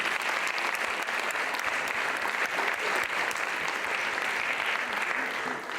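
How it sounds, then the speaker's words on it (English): Steady, dense applause from the audience at a classical Indian dance debut recital, a continuous wash of many hands clapping throughout with no break. "A big round of applause for Sweta."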